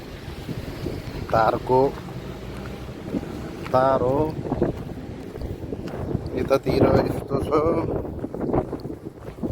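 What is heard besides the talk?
wind blowing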